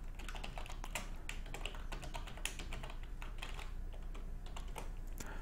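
Steady, fast typing on a computer keyboard while writing code, with dense overlapping key clicks throughout and no speech.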